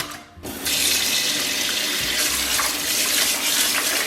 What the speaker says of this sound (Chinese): 然后拿清水给它冲洗一下